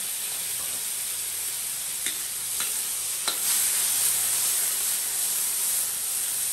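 Onion, garlic and tomato sautéing in hot oil for a Filipino monggo dish, a steady loud sizzle. A few soft stirring clicks sound from the pan, and nobody speaks.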